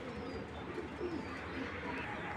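An indigo-coloured racing pigeon hen among a flock coos softly in a continuous low murmur of overlapping calls, heard close and steady with no voices.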